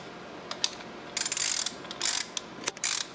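Short ratchet clicks from tightening during a valve seal job on a 4G63 2.4 L engine in a 1998 Eclipse GSX, several quick bursts of close mechanical clicking with pauses between them.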